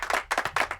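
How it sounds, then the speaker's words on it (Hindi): A few quick hand claps in a classroom, several sharp bursts in a brief uneven rhythm, close and moderately loud. "तालियां बजाओ"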